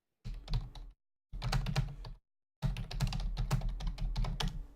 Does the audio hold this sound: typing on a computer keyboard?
yes